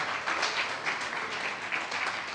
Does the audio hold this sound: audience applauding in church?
yes